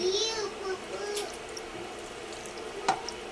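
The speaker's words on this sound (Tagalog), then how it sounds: "Ay, lagyan niya na ng tubig." Water pours into a cooking pot for lechon paksiw, a short, close splashing rush with voices talking over it.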